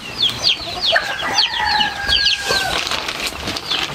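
Native chickens and young chicks cluck and peep in a farmyard, a steady run of close, overlapping chirps and clucks with a few longer calls mixed in.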